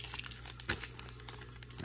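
A Panini NBA Mosaic trading card pack wrapper crinkles and tears open, faint close-up rustling and crackling in short bursts, with no voices.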